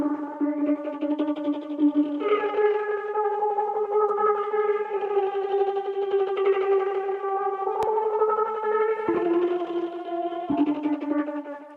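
Synth arpeggio from Surge's gate chord sequence preset, bright stacked tones pulsing in a rapid gated pattern with chord changes every few seconds, loud and alone.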